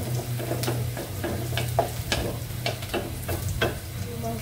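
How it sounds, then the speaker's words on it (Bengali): Meat cooking in a pan on a stove, a sizzle punctuated by repeated scraping stirs and clinks at an irregular rhythm, close and moderately loud. "মাংস রান্না করছি আমি"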